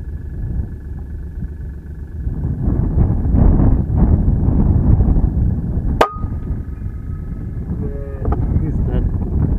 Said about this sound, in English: Shows you how windy it is.